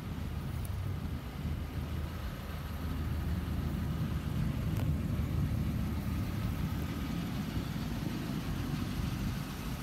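A 1989 Buick Riviera, garage kept with no exhaust leaks, idles with a quiet, steady low rumble that stays smooth and unchanging for about ten seconds.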